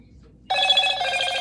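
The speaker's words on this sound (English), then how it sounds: "that was the old phone" An old telephone starts ringing abruptly, a loud, bright, steady bell ring that sounds close and alone.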